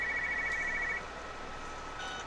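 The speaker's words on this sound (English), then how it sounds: "Your phone's ringing," A telephone in the video game Everybody's Gone to Rapture gives a faint electronic ring, a steady tone for about a second before fading into quiet ambient hum.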